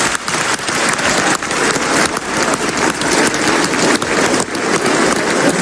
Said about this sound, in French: C'est pour que vous vous leviez et qu'on applaudisse tous ma charmante maman et mon papa.